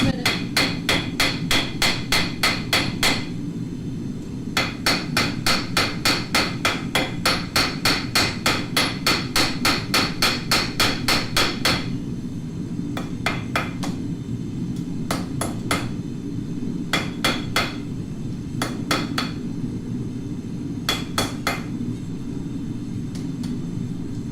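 A hot knife blade is hammered on an anvil in a forge, with rapid runs of loud, ringing metallic strikes separated by short pauses over a steady low rumble of the forge.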